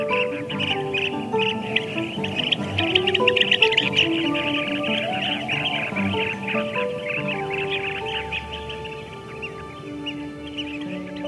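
Blue-tailed bee-eaters at their sandy nesting burrows keep up a dense stream of chirping calls, loud and close, with several birds overlapping continuously.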